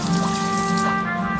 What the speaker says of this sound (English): Rinse it off first.